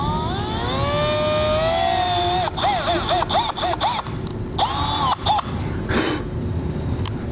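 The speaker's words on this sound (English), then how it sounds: "So now we can go around and we can drill the rest of our holes." A power drill bores holes through the metal roof of a 2017 Ford van, a loud, close whine that climbs steadily in pitch, then breaks into several short, sharp bursts as the bit cuts through.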